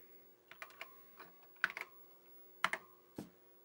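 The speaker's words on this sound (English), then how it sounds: "on the Apple you just type load" A few short words typed on an Apple computer keyboard: a light, close sequence of about a dozen key clicks in small uneven bursts over a quiet background.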